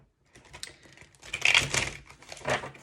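A deck of tarot cards being shuffled by hand, giving bursts of quick papery clicks and riffling clatter that swell and fade over a few seconds, with no talking.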